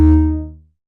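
A Korg Volca Modular synthesizer patch with the fold control turned fully counterclockwise plays one short, loud note that rings out as a low bass tone with a lead layer on top, then decays to silence in under a second.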